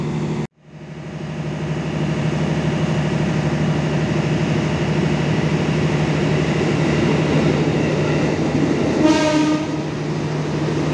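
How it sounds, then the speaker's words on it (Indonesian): A KRL commuter electric train rolls past a station platform on track 2, a loud close rumble with a low steady hum throughout, and a brief horn blast near the end. "Kayaknya akan ada KRL lagi yang melintas nih di jalur"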